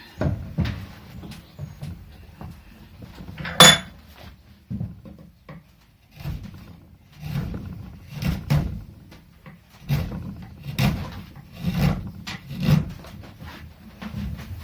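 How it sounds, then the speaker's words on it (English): Chisel forced into the wood of an early custom guitar body during rebuilding and carving, giving repeated close scraping, rubbing and knocking strokes in uneven bursts with one sharp click near the start. "Same story again, just force in with the chisel."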